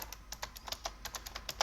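Rapid typing on a computer keyboard during a command-line session while installing Arch Linux, a steady run of close, crisp key clicks with no voices.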